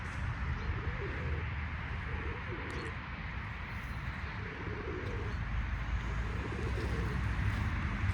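Domestic pigeons coo in soft repeated low phrases close by, with a steady rumbling background underneath and no talk.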